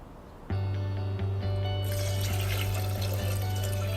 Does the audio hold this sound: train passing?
no